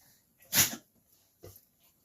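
A dog gives one sharp, close sneeze, followed by a softer snort a moment later.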